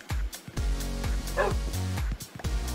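A wolf pup in a Minecraft CubeCraft minigame barks in a quick series of short, loud, high yips and woofs, close and alone.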